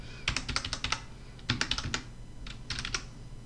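A computer keyboard is typed on in three quick bursts of close, crisp key clicks with brief pauses between them, heard alone and fairly quietly.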